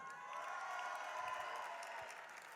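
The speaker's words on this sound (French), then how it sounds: "on va leur faire un tour d'applaudissements" Applause fills a packed concert hall at a high-school rock festival in Toulouse's Zénith arena, a steady wash of clapping and crowd noise that swells slightly and holds for a few seconds with no talk over it.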